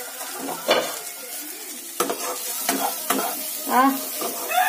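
A lid comes off a pan of spiced snail curry (geri gugli) as the masala sizzles and fries, with scraping stirs and a few clinks of metal cookware up close.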